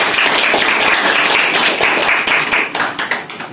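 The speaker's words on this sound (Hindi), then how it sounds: "ल ताली बजाउनु है।" A crowd claps at a ceremony honouring experienced farmers, loud close clapping with individual hand strikes audible, thinning slightly toward the end.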